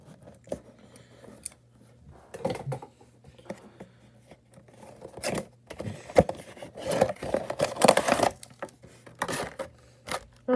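Scissors snip and cut through plastic toy packaging for a Lost World Jurassic Park Hammond Collection Pachycephalosaurus, heard as irregular close clicks, crinkles and rustles with pauses between bursts.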